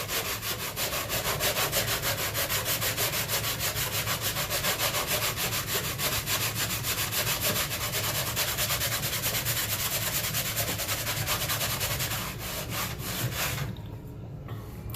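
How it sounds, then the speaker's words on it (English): Rhythmic back-and-forth scraping of sandpaper rubbing a drywall patch by hand, steady and close, continuing for many strokes before easing off near the end. "So let's go ahead, start sanding."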